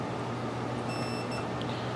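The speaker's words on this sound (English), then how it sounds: "it's always a good idea to take your meter and set the meter up, check our continuity, and verify." Multimeter continuity check on a Bally pinball solenoid driver board gives a short, high two-part electronic beep over steady background hum.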